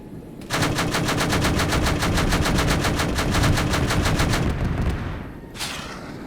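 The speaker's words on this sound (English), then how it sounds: "I heard heavy caliber shots fired" Heavy-caliber aircraft cannon fire in a military video game, a long, loud, rapid burst of evenly spaced shots lasting several seconds, then a pause and a short trailing burst.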